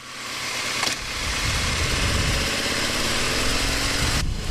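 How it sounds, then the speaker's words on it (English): Steady, close idle of a 2001 Aprilia RSV Mille motorcycle with a V-twin Rotax engine, a continuous low rumble with a slight throb throughout and no talking. "It's an Aprilia RSV Mille from 2001. It has a V-twin Rotax engine."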